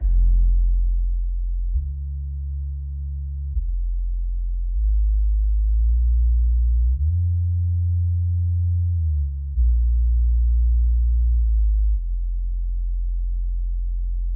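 Hi-fi system sound check playing a subwoofer test tone, deep steady low-frequency sine tones stepping between pitches in held segments, loud and alone with no voices.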